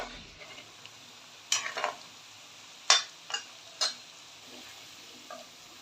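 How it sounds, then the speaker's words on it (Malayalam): Halved small potatoes sizzle quietly in oil in a pan, a soft steady hiss broken by a few sharp crackling spits and stirring scrapes at irregular intervals, close and with no voices. "അത് നടുമുറിച്ച് എണ്ണയിൽ ഫ്രൈ ചെയ്ത് എടുക്കുക."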